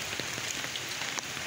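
Steady rain falls over a rural Bengal village, heard as a dense, even patter close by with a few louder drops, and nobody speaks.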